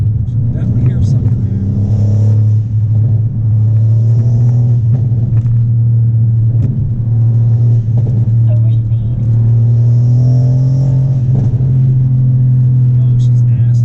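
Mercedes-AMG C63s (W205) fitted with a cold air intake, a steady deep engine rumble running throughout, loud and near, with brief revs and someone talking over it.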